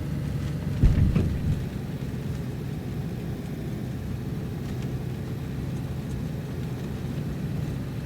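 A car drives steadily in the DayZ video game on the Livonia map, giving a muffled continuous engine rumble with a brief louder thump near the start.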